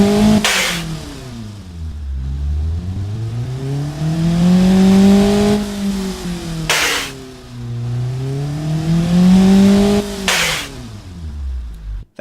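A car engine in the video game Automation revving repeatedly, pitch sweeping up and down in three long loud rising-and-falling cycles, each broken by a brief sharp shift burst, close and alone.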